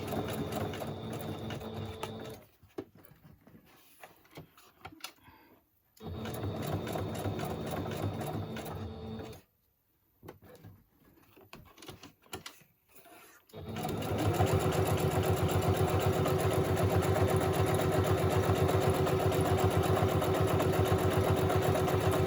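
Sewing machine stitching Easter tags, running in close, loud bursts with pauses between, the steady whirring motor stopping and restarting, with a voice talking during parts.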